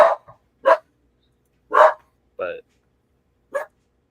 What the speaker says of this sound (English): Just because the other two are barking doesn't mean anything.